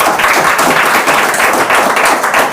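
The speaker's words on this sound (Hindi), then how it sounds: "तो माँ के लिए अगर दिल से ताली।" At a live stand-up comedy show, the audience breaks into brisk, loud clapping, a thick burst of hands lasting a couple of seconds with faint murmurs underneath.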